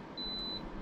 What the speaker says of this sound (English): it started beeping when it turned over